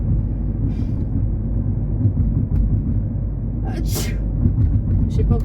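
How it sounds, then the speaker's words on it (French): A single sharp sneeze bursts out near the close mic inside a car, over a steady low rumble of background noise. "Je vais éternuer encore."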